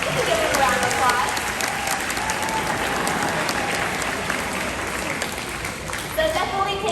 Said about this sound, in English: You can give it a round of applause.